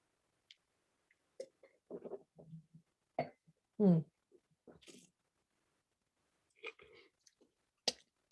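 Someone tastes a sip of rosé wine up close in quiet surroundings, with scattered soft slurps, mouth clicks, swallowing and lip smacks spread across the moment.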